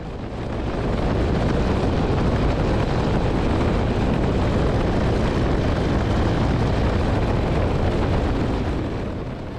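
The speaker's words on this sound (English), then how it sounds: "This is my version of a touch and go at Marshall County Airport near Lincoln," A Carbon Cub light airplane making a touch and go at Marshall County Airport near Lincoln, Illinois, in a slight left crosswind: a loud, unbroken engine and wind roar from inside the cockpit that holds steady throughout.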